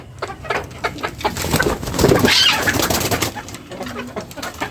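Pigeons coo in a raised pigeon coop with perch rails, giving soft, repeated throaty calls close by. Fluttering and rustling sounds are mixed in.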